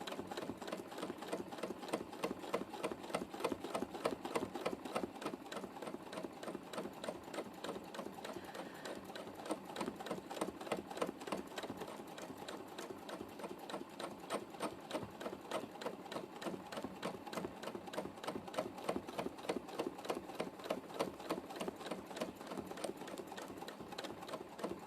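Sewing machine stitching free motion quilting with metallic thread through two layers of polyester wadding, a steady fast rhythmic needle chatter that runs continuously and fairly quietly with no talking.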